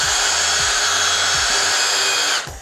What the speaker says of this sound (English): So we just take the impact driver with one of our foam smoothing spinners.